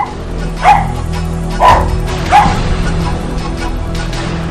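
Two pet dogs give three sharp, loud barks spaced about a second apart, close by, with quieter room noise between them.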